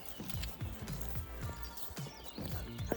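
Horse hooves clip-clop in a steady rhythm, close and clear, as a five-year-old child rides, with a brief whinny-like sound and an adult voice speaking faintly underneath.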